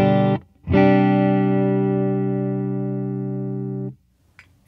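A PRS 513 electric guitar played clean through a Fender Deluxe Reverb with no delay or reverb: one short note, then a sustained chord ringing out for about three seconds before being cut off dry.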